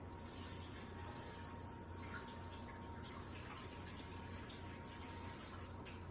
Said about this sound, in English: I have a pan in the bottom rack, and I'm going to just pour water into that.